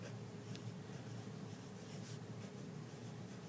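Pen or pencil writing in a notebook, a soft continuous scratchy rubbing that runs steadily throughout, fairly quiet and close, with no talking.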